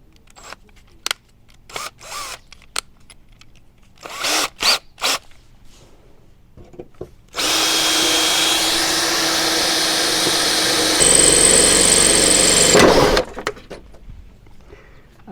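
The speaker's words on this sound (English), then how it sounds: "Gonna drill out the remaining part of this" Handling clicks and taps give way to a loud power drill drilling out plastic on a 1987 Honda CRX body panel, running steadily for several seconds, whining higher near the end before stopping abruptly.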